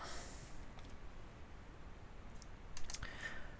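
Typing in all caps on a computer keyboard while setting text in Photoshop, faint scattered key clicks against quiet room noise, a small burst of taps near the end.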